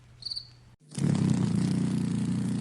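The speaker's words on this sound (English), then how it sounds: "Cricket," A cricket chirps loudly and steadily as a continuous trill, preceded by a brief fainter chirp and a short gap.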